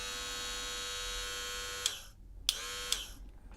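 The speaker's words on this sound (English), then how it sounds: "It definitely sounds different, and I think that has to do with the way the motor engages the trimmer head." Wahl Power Pro hair clippers run close up, the motor driving the trimmer head with a steady buzzing hum that cuts off after about two seconds, followed by a few sharp switch clicks.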